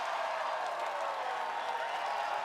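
A large arena crowd at an American Ninja Warrior finals event in Miami cheers and applauds, a dense, steady wash of clapping and voices that stays loud and even throughout.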